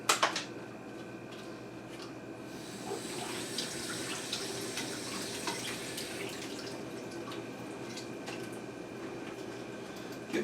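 Tap water running steadily over blueberries in a kitchen sink, a soft continuous splashing hiss with small drips and clatters, faint and close with no talking.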